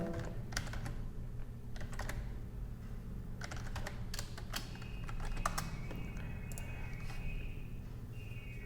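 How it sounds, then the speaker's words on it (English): Keys clacking on a computer keyboard as a password is entered, an uneven run of close, light clicks over a steady low hum, with no one speaking. "and type the password"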